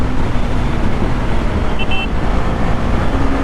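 Steady road traffic roar heard from inside a moving car on a busy road in India, a dense continuous rush with a faint brief horn toot in the middle.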